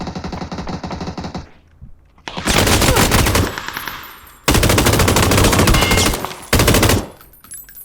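Gunfire in the video game Valorant: a short burst of rapid automatic fire, then three long, loud sustained volleys separated by brief pauses, with no one talking.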